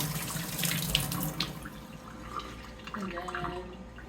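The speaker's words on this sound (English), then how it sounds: "Wash your hands." Hands are washed under a running kitchen tap while cooking an omelet, with water splashing close and steady before tapering to softer drips and trickles near the end.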